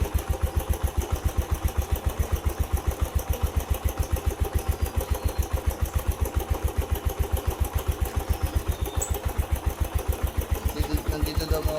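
A motorcycle engine idles under repair, a steady fast chugging pulse that runs evenly throughout, close and loud.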